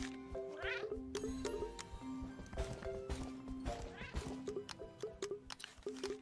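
Cartoonish cat meows from the video game Cat Quest, repeated in short tonal bursts over game music and sound effects, fairly loud and busy.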